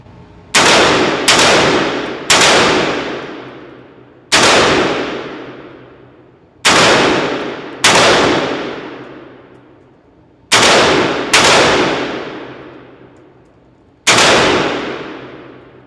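A budget AR-15 rifle fires at an outdoor shooting range: eight loud, sharp gunshots, single or in quick pairs, each trailing off in a long echo, with no talking.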